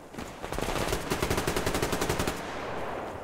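Rapid automatic gunfire in the video game Survarium rattles in a steady, fast burst lasting a couple of seconds, loud and close with a hard metallic edge.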